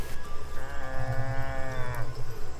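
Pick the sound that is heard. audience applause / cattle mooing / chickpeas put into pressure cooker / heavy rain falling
cattle mooing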